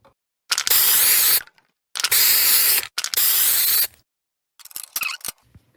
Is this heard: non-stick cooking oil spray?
yes